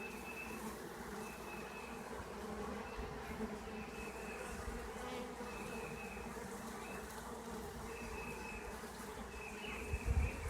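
A swarm of honey bees, including a virgin swarm with several queens, hums in a dense, continuous buzz with steady, wavering drone tones, close and fairly quiet, ending with a brief thump.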